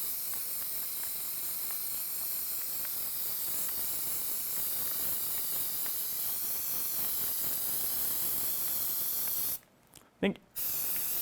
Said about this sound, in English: All right, let's spray this one.